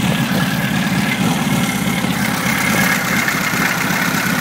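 A Volkswagen stroker engine idles with a steady, rumbling low throb that runs unbroken and close, with no talking.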